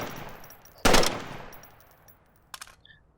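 A Volk Specialist gun fires one short, sharp full-auto burst that rings out loud and close, followed by a decaying tail and a fainter metallic clack a moment later.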